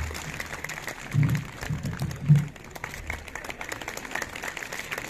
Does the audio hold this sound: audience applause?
yes